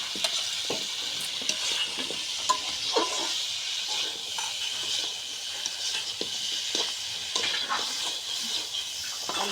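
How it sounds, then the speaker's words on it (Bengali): Mutton and potatoes stirred and fried together in a pan, a steady close sizzle with scraping spoon strokes and small clatters throughout, no talking. "এখন এর সাথে আমি আলুটা মিক্স করে"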